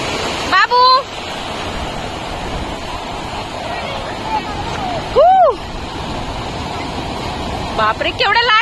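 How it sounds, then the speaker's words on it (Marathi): Big sea waves crash and wash continuously onto a white sand beach on the Konkan coast, a loud steady roar with voices calling out over it. "बापरे केवढ्या लाटा येत आहेत"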